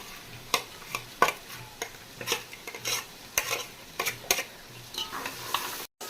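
A spoon stirs fried onions into a pot of chicken biryani with fried chicken pieces, giving repeated scraping strokes and clinks in an uneven rhythm over a low, steady sizzle.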